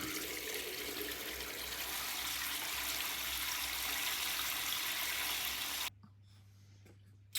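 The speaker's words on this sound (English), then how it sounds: "A bit slow on the drainage side, but it does drain." Slow-draining sink with water rushing and gurgling steadily for several seconds, then cutting off abruptly to a quiet low hum.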